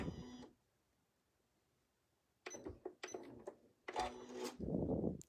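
A sewing machine tacking off stitches runs in short mechanical bursts, close and clear. A quiet pause separates the first burst from several rapid stitching runs that follow.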